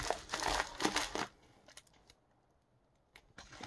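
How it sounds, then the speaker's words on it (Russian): A parcel package being opened by hand, with a burst of loud crinkling, tearing and rustling of packaging up close, then quieter scattered rustles and a few sharp crackles near the end. "Вот, открываем посылочку"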